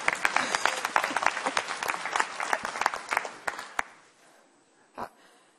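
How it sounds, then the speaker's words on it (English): A conference audience at a business keynote applauds with sharp, uneven claps that thin out and stop, followed by a single soft breathy sound in the near silence. "Applause."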